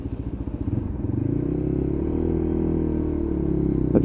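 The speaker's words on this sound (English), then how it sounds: "I'm just pulling away on the clutch again, just checking the clutch operation." A Lexmoto LXR 125 motorcycle pulls away on the clutch, its small single-cylinder engine chugging unevenly at first, then settling into a steady, loud, close rising drone.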